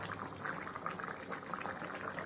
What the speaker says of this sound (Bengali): সবজিটা এখন টকবক করে ফুটছে